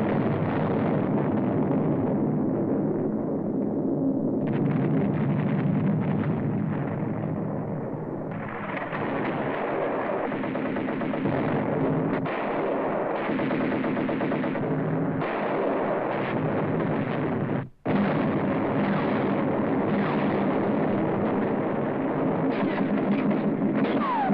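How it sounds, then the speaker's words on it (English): Naval gunfire from American destroyers and gunboats in a 1944 wartime film: a continuous heavy roar of booming shots and blasts, loud and dense, with a brief dropout partway through and no speech. "destroyers, and gunboats put out a devastating fire"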